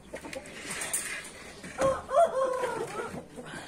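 A rooster crows once at moderate distance, a single drawn-out call rising and falling over a couple of seconds, with faint clucking and other fowl noises around it in a bird enclosure.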